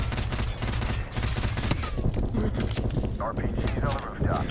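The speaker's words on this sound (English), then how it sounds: "fully auto grenade launcher turret" A fully automatic grenade launcher turret in Call of Duty: Modern Warfare Remastered fires dense, rapid thumping bursts amid heavy battle noise, with a voice talking over parts of it.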